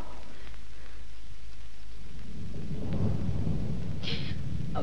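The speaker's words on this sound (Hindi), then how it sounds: "अभी बिजली कड़की थी ना," Thunder rolls and rumbles loudly through a steady rainstorm, a deep sustained roar swelling toward the end with a sharper crackle near the close; no voices.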